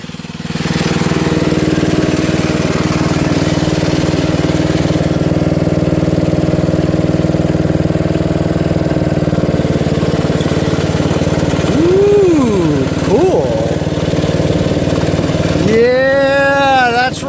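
A Toro Wheel Horse riding mower with a Briggs & Stratton 8 HP engine runs loudly and steadily close by, a continuous rough mechanical drone, with a few brief wavering tones near the end that could be a voice.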